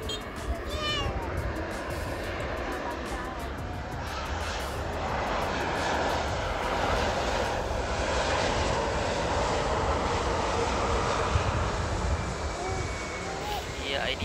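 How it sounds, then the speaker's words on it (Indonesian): Passenger airliner carrying a group of hajj pilgrims, just landed at Sultan Iskandar Muda Airport in Aceh, a loud, continuous jet engine roar and whine that holds steady throughout, with a person talking over it. "yaitu pesawat ini yang membawa rombongan jemaah haji kloter ketiga, yaitu dari Aceh Utara. Ini baru saja landing teman-teman."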